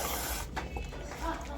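Cleaner sprays in a steady, close hiss onto a Suzuki F6A engine carburetor during a rebuild, then cuts out briefly before spraying again.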